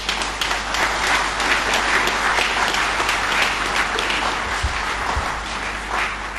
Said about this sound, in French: je voudrais les remercier et vous demander à tous ici de les applaudir